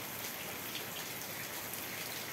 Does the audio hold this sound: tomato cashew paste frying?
no